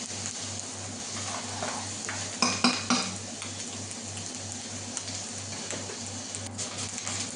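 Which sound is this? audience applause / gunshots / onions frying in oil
onions frying in oil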